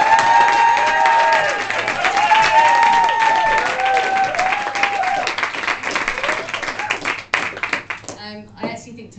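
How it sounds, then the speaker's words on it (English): An audience claps together in a sustained burst of applause, with voices and crowd noise mixed in, tapering off into scattered claps near the end. "if we can do the clapping thing"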